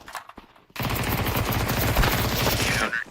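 Video game gunfire: after a short quiet opening with faint voice, a loud sustained burst of rapid automatic shots rattles continuously for over two seconds, close and dense.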